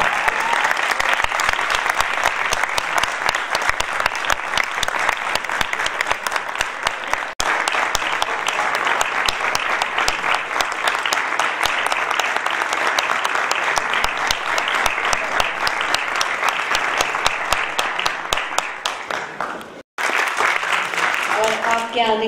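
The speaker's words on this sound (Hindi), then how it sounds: "ताली साहब" An audience at a tabla concert by Ustad Abdul Sattar Khan Tari claps in sustained, dense applause that runs unbroken for about twenty seconds, dips for a moment, then swells again.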